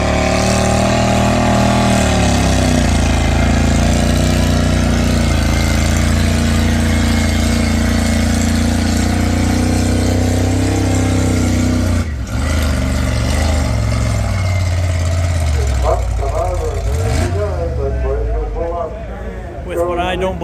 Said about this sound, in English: With what I don't believe to be an original Massey Harris engine.